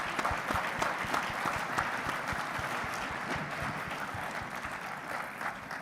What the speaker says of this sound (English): Please do give a round of applause to our practice group leadership for all their hard work in making this weekend possible.